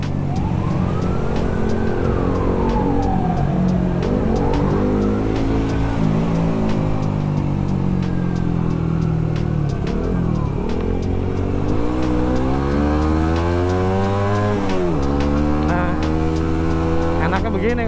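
A Suzuki GSX-S150 motorcycle on the move, its close, loud engine note climbing and falling through repeated rev sweeps and gear changes across nearly eighteen seconds.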